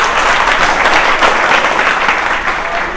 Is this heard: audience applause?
yes